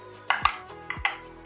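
A spoon stirring whey protein powder into a shake: four quick clinks of metal against the container in two pairs, close and fairly loud over a faint background.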